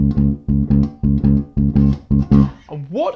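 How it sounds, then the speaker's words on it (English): Bass guitar played in a shuffle feel for a beginner version of a song, a loud, low, bouncy repeated pattern of notes in triplet groupings, ending with a sliding note, with no talking. "This is based on a groove or feel called the shuffle."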